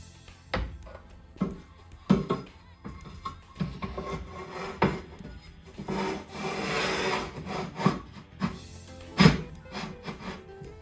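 A cordierite pizza stone scraping and sliding into a Unold Luigi electric pizza oven, a run of close, quiet gritty rubs and knocks with a longer steady scrape in the middle and small bumps as it settles snugly.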